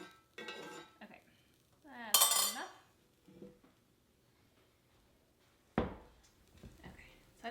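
Metal spoon scraping and clinking against a heavy skillet as onions are scooped out for beef heart stew, a few distinct clanks and scrapes spaced apart, close, with brief speech between them.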